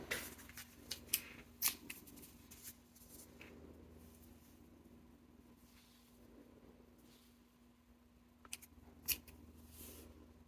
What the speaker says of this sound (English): I have a chunky scrap piece of yarn, and I'm going to cut it into some strips.